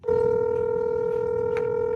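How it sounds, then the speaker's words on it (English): Telephone call ringing tone, a loud steady pure tone sounding continuously in the earpiece for about two seconds, alone and close, with a faint click near the end. "called the phone numbers they left with the company."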